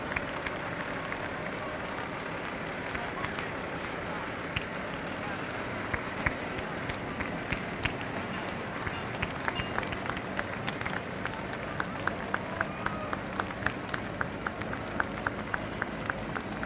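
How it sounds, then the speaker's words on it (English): A crowd at a fall festival parade applauds, scattered claps of many hands against a steady outdoor murmur, fairly distant and moderate in level, with talk nearby. "Much applause for these folks."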